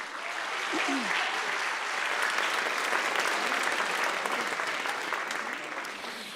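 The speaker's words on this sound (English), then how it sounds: "can we give her a great round of applause?" Sustained applause from a school choir concert audience, a steady dense wash of clapping that holds for several seconds at moderate distance, with a brief voice or whoop near the start.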